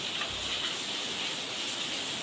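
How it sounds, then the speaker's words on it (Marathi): Monsoon rain falling hard in Mumbai, heard from indoors behind a closed window: a steady, dense hiss of downpour with no breaks, moderately quiet and even throughout. "आमच्याकडे कसा पाऊस येतोय ते बघू शकता तुम्ही"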